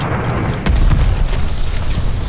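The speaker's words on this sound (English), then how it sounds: "Enemy's got a glide bomb incoming." A glide bomb blast in Call of Duty: Vanguard, a single heavy, loud boom hitting suddenly and rumbling on with a dense low roar to the end.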